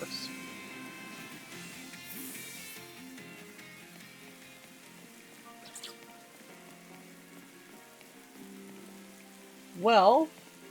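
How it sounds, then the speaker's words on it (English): Light rain patters steadily in the Pokemon Violet video game world, a soft continuous hiss under quiet game music, with a brief louder chime-like flourish near the end. "Did it just start raining?"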